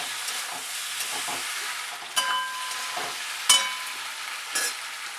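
Paneer chilli with soy sauce being stir-fried in a pan, a steady soft sizzle broken by a few sharp scraping stirs, close by with no talking.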